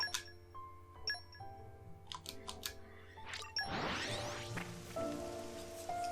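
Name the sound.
rain in Xenoblade 2: Torna video game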